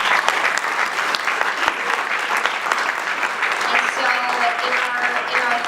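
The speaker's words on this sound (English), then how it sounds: "I think we can all clap our hands around that" An audience at a charity awareness gala claps steadily, a dense, sustained round of applause filling the room at an even level throughout.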